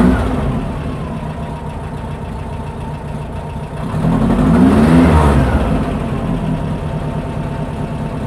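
A car engine idles after a valve spring shim repair, settling into a steady low running note, then briefly revving up around the midpoint before dropping back to idle, alone without talking.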